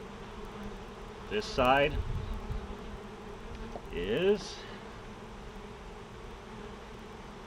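Honey bees drift around an open backyard hive with capped and hatched brood, a faint steady hum beneath a quiet voice that speaks briefly twice.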